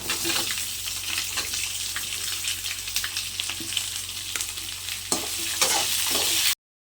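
Chopped onions hiss as they fry in hot oil for kadambam chutney, a constant close sizzle broken by occasional spatula taps and clinks, with faint background voice.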